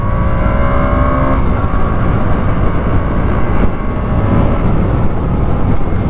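A 2024 KTM Duke 125 motorcycle engine, rated 14.5 PS, pulls hard in first gear. The engine drone is loud, close and continuous, with the pitch climbing and then holding high.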